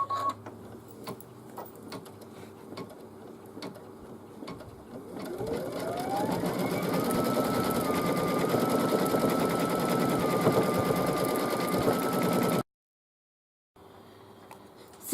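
A sewing machine stitches out lettering on a hooked mug rug, a steady fast whirring drone that starts after a few seconds of quiet ticking, runs continuously, then cuts off abruptly near the end.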